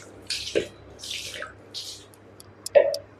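Water splashes in short, separated bursts while a dog is rinsed around its face and eyes at bath time, with quiet gaps between the pours.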